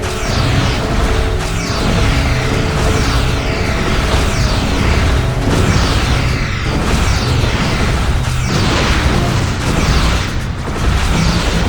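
Dense, continuous barrage of booming explosions and bursts as buoys are destroyed in the Star Trek Shattered Universe space combat game, loud and unbroken with rumbling blasts layered over game music and effects.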